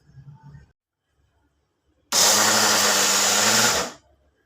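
A mixer grinder pulse-grinds soaked lentils, whirring loudly in a single burst of under two seconds, starting abruptly after a quiet pause and cutting off sharply, with faint voices before it.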